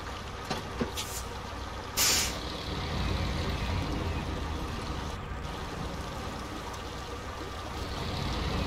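Truck air brakes in the SnowRunner video game hiss in one loud, short release burst near the start, set against steady engine rumble and running water from a wild river.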